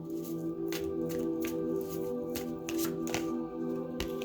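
Oracle cards shuffled by hand, a continuous close riffle of papery slaps and flutters with a steady hum underneath.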